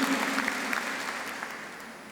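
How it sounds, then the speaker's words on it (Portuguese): A congregation applauds during a Sunday Catholic Mass, a steady wash of clapping lasting about two seconds, with a faint sustained tone beneath it. "Uma salva de palmas para Jesus."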